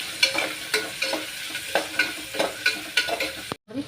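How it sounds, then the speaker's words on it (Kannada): Green chillies and masala fry for pasta in a pan, hissing steadily while a spoon scrapes and stirs in regular, close strokes about every half second, ending in a brief pause. "ಇದು ಹಾಕಿ ಫ್ರೈ ಮಾಡತ್ತೀನಿ"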